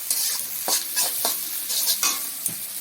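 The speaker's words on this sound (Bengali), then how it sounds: "পেঁয়াজগুলো ভাজা ভাজা হয়ে গেছে" Chopped onions fry in a pan with panch phoron spices, a steady close sizzle broken by several sharp scrapes of a spatula stirring, with no voices.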